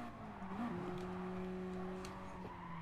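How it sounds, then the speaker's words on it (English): A Mazda Eunos Roadster in Gran Turismo Sport drifts with a sustained tyre squeal over a quiet engine drone, faint and steady for a couple of seconds. "Nice little drift."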